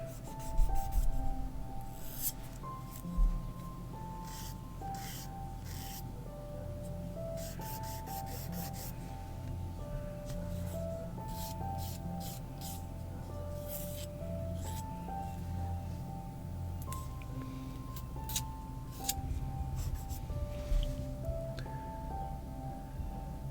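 Fingernails being shaped with a nail file during a manicure, giving steady rasping strokes in close, irregular bursts over a faint tonal background hum.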